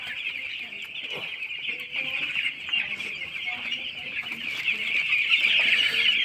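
Broiler chicks in a poultry house cheep after vaccination, a dense, continuous chorus of high, shrill peeps that grows slightly louder toward the end, with no talk.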